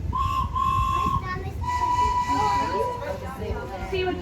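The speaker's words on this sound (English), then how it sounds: "See what Charles Thomas's whistle does to these bad guys?" A steam locomotive whistle dressed as Thomas the Tank Engine at the Tweetsie Railroad sounds two long, clear, steady blasts, close and loud, over rumbling train noise and voices.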